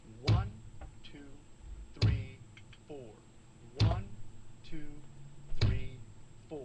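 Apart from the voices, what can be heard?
bass drum played on counts 1 and 3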